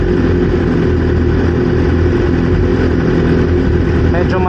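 A BMW S1000RR superbike engine runs loud and steady in first gear as it climbs a steep parking ramp without added throttle, a constant close drone throughout.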